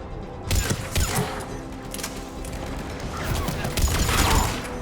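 Gunfire in a Mass Effect 3 combat scene rattles in scattered bursts and cracks, with mechanical clatter mixed into a busy, loud battle din.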